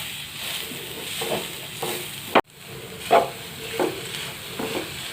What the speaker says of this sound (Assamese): গুড়খিনি নাৰিকলখিনিৰ লগত মিহলি হৈ যোৱালৈকে ভাজি থাকিম